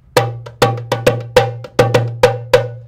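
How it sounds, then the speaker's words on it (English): A tightly tuned djembe struck by hand gives sharp, bright, ringing slaps, about nine hits in a loose uneven rhythm, close and loud with a short decay after each, and no talking. "Check the sound of the drum."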